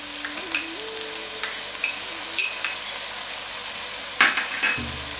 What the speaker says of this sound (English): So have to fry it again